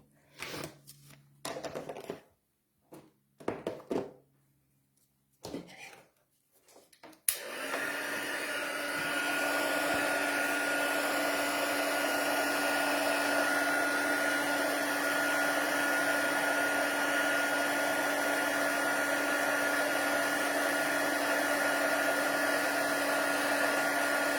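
Heat gun blowing over embossing powder on vellum, a steady close whooshing hum that switches on after several seconds of scattered tapping and handling noises, then runs evenly to the end.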